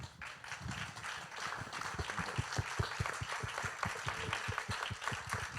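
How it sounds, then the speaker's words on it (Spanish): Audience applause following a theatre talk, a quiet, distant wash of clapping that settles into a faster, more rhythmic beat of hands toward the end. "Gracias por ese aplauso que comparto."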